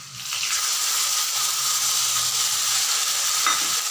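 Potatoes frying in a pan as spices go in, a steady close sizzle with light stirring scrapes and a brief clink near the end, no voices.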